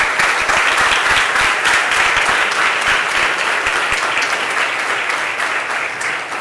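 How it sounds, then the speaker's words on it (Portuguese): A church congregation applauding during an evening service, dense sustained clapping from many hands filling the room evenly and slowly easing toward the end. "eu queria que você aplaudisse e glorificasse o nome do Senhor"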